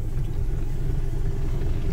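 A 2008 Hyundai Elantra with a 1.6-litre engine and manual gearbox idles steadily, a soft, even low rumble that holds close and constant with no talking over it.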